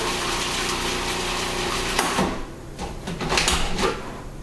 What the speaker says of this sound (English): drop in the garlic cloves, which is another ingredient I failed to mention initially, and let them grind to a fine texture.